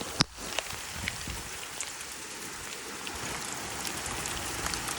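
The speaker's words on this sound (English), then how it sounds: "Oh, it's hailing now." Hail falls outdoors during an off-road lawnmower outing, a soft continuous patter of pellets with a few sharper close impacts, fairly faint and steady with no talk.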